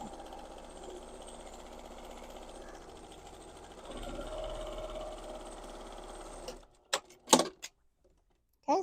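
A sewing machine runs continuously while stitching a skirt seam, a steady close mechanical whir that gets louder midway, then stops abruptly and is followed by a few short handling clicks and rustles.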